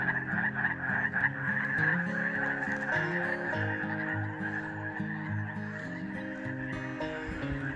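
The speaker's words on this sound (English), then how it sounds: "Passing a little pond here with a lot of frogs." A chorus of many frogs croaks at a small pond along a mountain trail through partly burned forest, with overlapping repeated croaks and low throaty calls, loud and close, continuing steadily with no talk.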